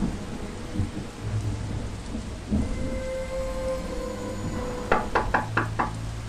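Knocking on a door, a quick run of about five raps near the end, heard over a steady rain-like hiss and low rumble.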